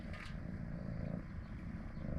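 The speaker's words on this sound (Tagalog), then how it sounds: "Narinig niyo yung purr niya?" A cat purrs with a low, continuous rumble, close to the microphone and quiet, with a steady pulsing rhythm like a small motor.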